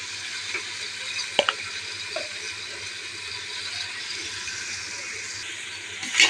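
Green chillies and ginger garlic paste sauté in a pan for biryani with a soft, continuous frying hiss and a few faint clinks of stirring, fairly quiet throughout.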